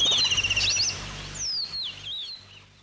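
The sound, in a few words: birds chirping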